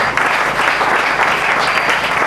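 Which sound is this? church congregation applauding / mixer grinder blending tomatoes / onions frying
church congregation applauding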